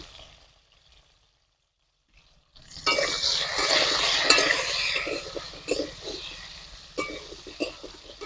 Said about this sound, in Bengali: পটলগুলো আমার মোটামুটি ভাজা হয়ে এসেছে